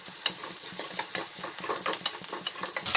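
Onions cooking with salt in a pan for a fish tamarind curry, a bright steady sizzle with soft repeated scraping of a spoon stirring through them, close and continuous, no voices.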